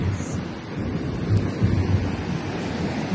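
Sea waves wash onto a beach in a low, continuous rumbling surf, with wind buffeting the microphone throughout.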